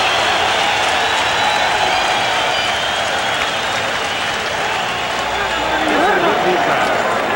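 Boxing arena crowd at the Meldric Taylor vs Ernie Chavez fight, a loud continuous roar of cheering and applause that swells as people rise, with a commentator talking over it.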